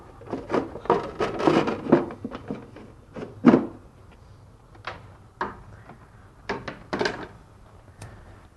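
Lid of a Red Sea MAX S-Line aquarium being handled and shut, a series of close plastic thunks, clatters and scrapes with short pauses between them.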